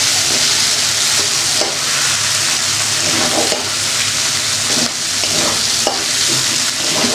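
Mixed vegetables with four very hot green chillies sautéing in a pan until dry, giving a steady, loud, crackling sizzle that runs without pause throughout.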